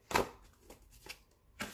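Thick watercolour paper sheets rustle and flick in a few quick, soft bursts, close by and quiet, with brief pauses between.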